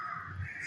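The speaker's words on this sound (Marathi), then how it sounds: "येस गाईज, आला कावळा" A single crow caws once, a short harsh call heard outdoors at moderate distance over faint background noise, with nobody speaking.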